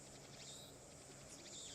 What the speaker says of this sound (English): Being attacked by cicadas.